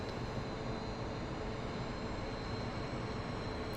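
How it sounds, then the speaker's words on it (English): Su-27 jet engine roaring with afterburner lit in a flight simulator, a steady, dense broadband rumble and hiss held at constant loudness throughout, with no voices. "we whack on the afterburners, plug in the reheat"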